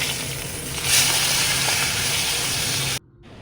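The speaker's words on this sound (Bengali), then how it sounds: "ভালোই লাগে ইলিশ মাছের কাঁটা দিয়ে শুক্তো খেতে, যেটা এখানে ভাজছি আমি" Hilsa fish bones and vegetables for a Bengali shukto fry in a pan, giving a continuous loud sizzle and hiss that swells briefly near the start, then cuts off abruptly at the end.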